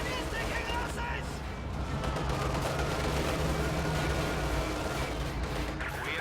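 Tank and panzer gunfire in a battle video game rumbles as continuous booming explosions and shots under a dense, loud wash of combat noise, with voices calling out over it.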